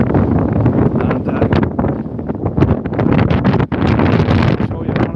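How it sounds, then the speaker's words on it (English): Strong, freezing-cold wind buffets the microphone outdoors, producing a loud, continuous roaring rumble with gusty fluctuations that barely lets up. "it's freezing cold, really, really windy out"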